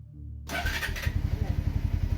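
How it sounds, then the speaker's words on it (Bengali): A motorbike engine starts as an animation sound effect, catching after a brief silence and settling into a steady, close, chugging idle. "আমি আর কিছু না ভেবে বাইক চালাতে শুরু করলাম।"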